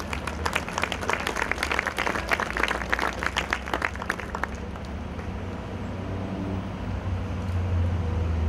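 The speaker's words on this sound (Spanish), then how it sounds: "La recibimos con un fuerte aplauso." An audience at a panel session claps to welcome the moderator, a lively round of applause that fades out after about four seconds, leaving low room hum.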